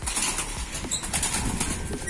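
Captured pigeon flapping its wings, a continuous rapid rustling flutter close by, loud and fairly steady throughout without any talk.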